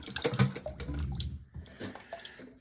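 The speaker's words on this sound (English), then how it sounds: "Notice there's a lot of water pouring out of there." Water gushes and splashes from a toilet tank supply connection during a fill valve and supply line replacement, a close, uneven pouring with bubbly bursts that eases off partway through.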